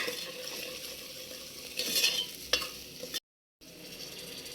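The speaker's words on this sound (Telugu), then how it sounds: "ఇదంతా బాగా కలుపుకోవాలి" Liver curry with chili powder stirred in a pan, a soft frying sizzle under a few scraping strokes and a metallic clink of the spoon against the pan, close and fairly quiet, followed by a brief dropout.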